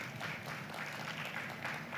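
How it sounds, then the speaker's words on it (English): Audience applause fills a hall at a digital transformation summit, a steady wash of many hands clapping together with no clear breaks, moderately loud throughout. "Please clap for them."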